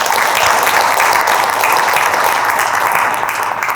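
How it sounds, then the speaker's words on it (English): A crowd at an evening city budget meeting gives a loud, continuous round of applause for student journalists, a steady wash of clapping that holds evenly throughout. "I just want to give a big round of applause to our KCBYN Sidekick journalism students here"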